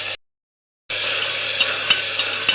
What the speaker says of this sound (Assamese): ভালকৈ এনেকৈ মই ভাজি লওঁ।